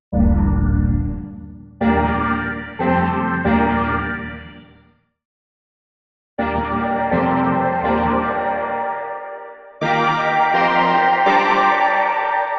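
Sustained synthesizer chords with a chorus-like shimmer, each ringing out and decaying, separated by a brief silence and ending in brighter, louder chords.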